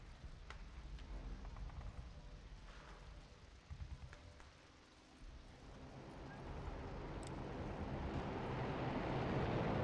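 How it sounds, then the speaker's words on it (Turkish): A propeller airplane flies overhead in the video game Enemy Front. Its roar swells from a low rumble into a loud, broad wash of engine noise over the last few seconds, with no voices. "Şimdi uçak geçtiğinde ses oluyor ve silah sesini duymuyorlar."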